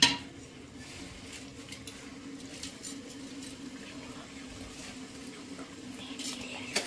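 Vegetables being stirred with salt in a pot over a wood-fired stove while cooking veg biryani, with faint scraping and soft clinks of a metal utensil against the pot under steady low background noise.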